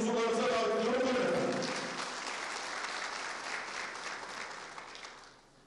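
Enthusiastic audience applause at a press conference for an oil wrestling league, a full burst of clapping that gradually thins and fades out, with a voice briefly heard at the start.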